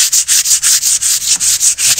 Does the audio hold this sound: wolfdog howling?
no